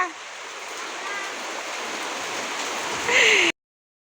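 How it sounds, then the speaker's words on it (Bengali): Heavy rain pouring down in a steady dense hiss on a morning, constant and close, swelling slightly louder just before it cuts off. "দেখো প্রচন্ড বৃষ্টি শুরু হয়ে গেছে"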